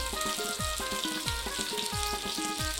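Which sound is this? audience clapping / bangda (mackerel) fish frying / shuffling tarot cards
bangda (mackerel) fish frying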